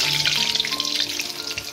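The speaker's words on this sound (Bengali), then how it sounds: "তেলের মধ্যে আলুগুলো দিয়ে দিচ্ছি" Steady crackling sizzle of potatoes frying one by one in hot oil on a gas stove, for rohu fish biryani, dense and close, running continuously without pause.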